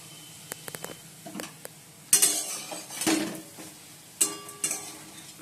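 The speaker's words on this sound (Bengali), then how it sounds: "আর এই যে বড়া ভাজছি এখন" Fritters frying in sizzling oil with scraping and clinking of a utensil against the pan, in short bursts of louder frying between quieter taps.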